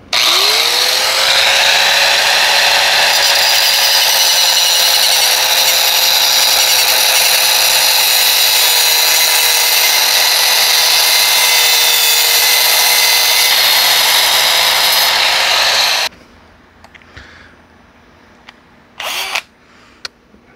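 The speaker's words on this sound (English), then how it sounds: "I got a drill, put a plug in there. So it spins." An electric drill spins a spark plug to cut it off, giving a loud, steady high-pitched whine with a rising tone at start-up that runs continuously, then stops abruptly, followed by a few faint clicks.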